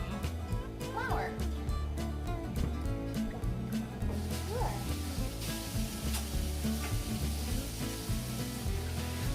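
Christmas cookie dough is stirred in a bowl, producing a continuous close scraping and swishing with a rhythmic rub under children's and adults' chatter.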